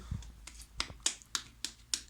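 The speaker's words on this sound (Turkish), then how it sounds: "Alkışlayın kendinizi." Children clap for themselves at home, sparse and quiet: about seven separate sharp claps spaced unevenly, each ringing briefly, with near silence between.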